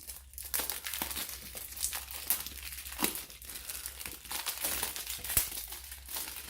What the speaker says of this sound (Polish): Zdejmiemy sobie może najpierw folię.